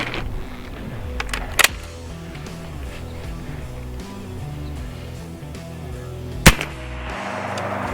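Two sharp, loud reports from an air-powered 12 gauge shotgun firing real buckshot shells, one early and one later, each a sudden crack over a steady low background rumble.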